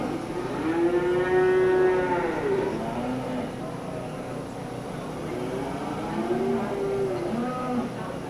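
Cattle moo at a county fair beef show as a cow-calf pair enters the ring, two long drawn-out lows a few seconds apart over a murmuring indoor crowd.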